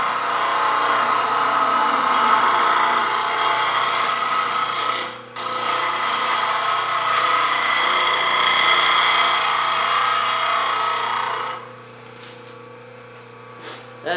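Wood turning scraper sharpened on a grinder with a sharpening jig, a steady close rasping grind lasting about eleven seconds with one brief break, then the grinding stops and a few faint clicks follow.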